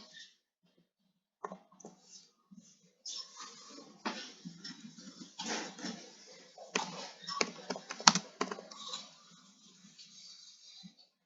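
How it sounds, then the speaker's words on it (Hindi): Keys on a computer keyboard tap in quick irregular bursts, close and fairly quiet, with brief pauses between runs of typing and no voice over them. "मैं यहाँ पे सिंपली लिख दूंगा कि सॉफ्टवेयर टेस्टिंग।"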